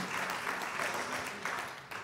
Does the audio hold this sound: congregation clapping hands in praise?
yes